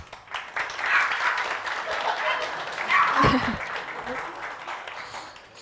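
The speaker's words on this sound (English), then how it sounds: "first portion of applause I guys will give to you" An audience at a Ukrainian tech demo day in Kyiv applauds, a sustained wash of clapping with a few voices and chuckles mixed in, fairly close and full.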